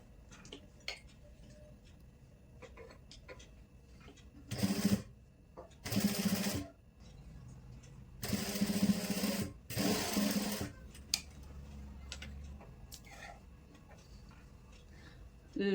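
Sewing machine stitching the side seam of a saree, heard in two short bursts and then two longer runs of rapid stitching, close and fairly loud, with quieter handling noises between and a voice speaking in places.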